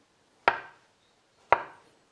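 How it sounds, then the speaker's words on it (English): Two separate crisp knife strikes on a cutting board about a second apart while fresh garlic is sliced, each a sharp close tap with a short decay and silence between. "I have some fresh garlic, and we're just going to slice this up."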